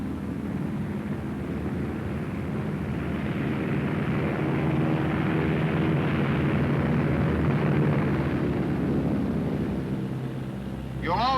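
A Martin B-26 bomber flies slowly with flaps and landing gear down, shuddering just before the stall; a continuous loud engine and airframe roar swells steadily and holds, ending abruptly.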